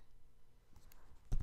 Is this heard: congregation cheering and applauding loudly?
no